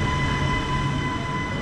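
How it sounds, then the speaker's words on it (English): A Milan Metro subway train runs steadily and loudly in a continuous rumble with a faint steady whine, heard from close by without any talk. "Hopped on the Milan Metro, which is the largest metro system in Italy"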